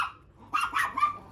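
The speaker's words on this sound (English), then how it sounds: "Finn, stop barking at Winston." A dog barks a few times in quick succession, close and fairly loud, with short yipping barks and no talking.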